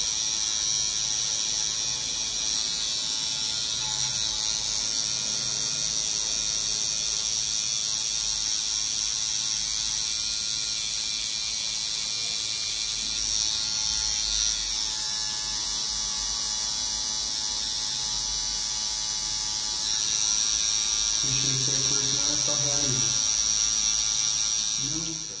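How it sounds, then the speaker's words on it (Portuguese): Tattoo machine shading a black and grey tattoo, giving a continuous close electric buzz with a steady high whine that holds for the whole stretch, while a voice speaks faintly near the end. "E não tem problema em trabalhar com a máquina nesse ângulo"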